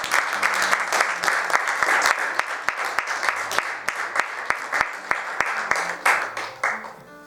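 A congregation applauds during a French-language church sermon, with loud, sustained clapping that has a strong rhythmic beat running throughout.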